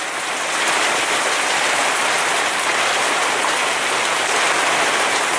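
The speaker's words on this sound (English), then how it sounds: "Sorry if you can't hear me due to the rain." Rain falls steadily outside as a dense, even hiss of drops on surfaces, loud and continuous with no voices.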